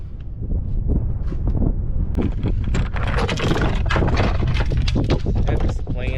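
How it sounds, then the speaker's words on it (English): Strong wind gusts over open water while riding a Sea-Doo Fishpro personal watercraft in a river channel, a loud, continuous buffeting roar close to the microphone, with a voice heard now and then. "Boy, that wind is bad."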